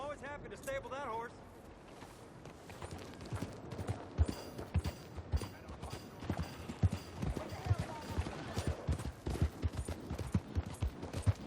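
Horse hooves clip-clop steadily on the ground in the Red Dead Redemption 2 video game, with a brief whinny at the start and bursts of gunfire mixed in.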